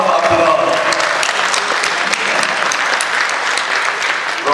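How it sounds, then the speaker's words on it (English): Audience applause fills the room, with dense, sustained clapping that stays loud and even throughout and no talk over it. "Big round, biggest round of applause."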